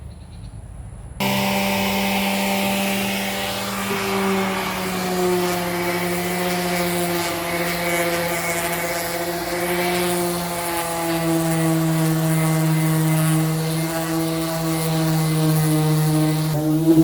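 A sander fitted with a sanding disc works over a freshly painted bed frame, its motor starting abruptly and holding a loud, steady whining drone that wavers slightly in pitch without a break.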